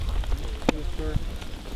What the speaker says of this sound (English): And the rain is the heaviest.